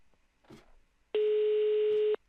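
A steady electronic dial tone in Minecraft sounds loud and unbroken for about a second, after a brief soft rustle.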